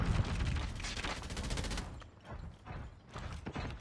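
A video game turret fires rapid, close bursts of automatic shots in two volleys separated by a short lull, loud and without talk.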